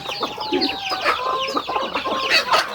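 Several chickens cluck and chatter busily nearby on a rural Thai homestead, overlapping short calls in an irregular stream, with a few higher squawks mixed in.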